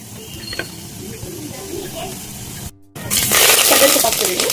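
Cumin seeds dropped into hot oil already holding mustard seeds for a tempering, bursting into a loud, steady sizzle and hiss that jumps up sharply after a brief quiet gap and stays close and strong.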